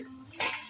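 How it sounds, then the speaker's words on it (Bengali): A metal lid lifts off a pot of simmering egg and lentil-fritter curry with one brief close clatter, then a wash of bubbling steam over a steady low kitchen hum. "এবার আমি ঢাকাটা খুলে দেখে নিচ্ছি"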